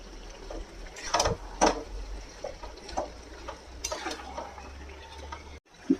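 A spoon stirring lau posto, a bottle gourd curry with poppy seed paste, in a pan: a few sharp metallic scrapes and clinks against the pan, spaced and close, over a quiet low hum.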